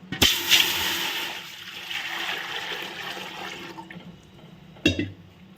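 Water gushes steadily into a thick-bottomed cooking pot for a few seconds, fairly close, then stops with a brief clank at the end.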